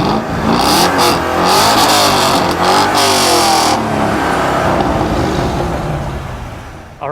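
A car engine revving hard and accelerating, a loud close roar with rising and falling pitch sweeps and sharp pops early on, sustained for several seconds before easing off at the end.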